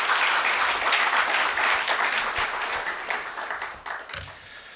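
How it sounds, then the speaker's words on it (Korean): An audience at a training session for priests, religious and lay people gives a loud, full round of encouraging applause, many hands clapping densely before the sound thins and fades out. "이 친구들이 진솔한 나눔을 할 수 있도록 여러분들 격려의 박수 부탁드리겠습니다"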